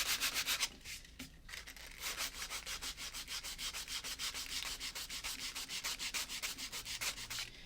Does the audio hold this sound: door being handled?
no